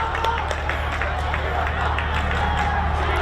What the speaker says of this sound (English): The crowd now wakes up.